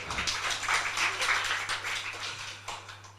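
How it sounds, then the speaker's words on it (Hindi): A small indoor audience gives a brief round of applause at a talk on violence against women, with moderate, soft clapping that tapers off after a few seconds. "मुझे तालियां बजा सकते हैं आप।"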